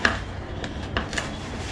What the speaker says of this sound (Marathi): चलो हांव कापून दित तिका.